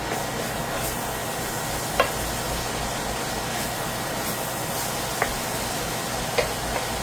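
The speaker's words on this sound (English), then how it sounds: "So we're going to add our sausage until they get really cooked through and through." Sausage frying in a pan, a steady even sizzle filling the background with a few faint ticks and clinks scattered through.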